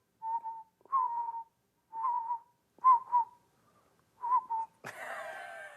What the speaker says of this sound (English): Now whistle and say oodle.